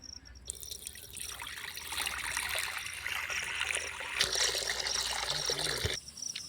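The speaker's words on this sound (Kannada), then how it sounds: "ನೀರು" Steady running water pours for several seconds while cauliflower is cleaned for a dry gobi dish, broadband and continuous with brief interruptions, close and fairly loud, no voices.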